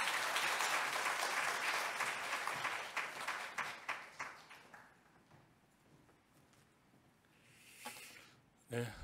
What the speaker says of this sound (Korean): 목사님 수고하셨다고 박수로 모시겠습니다.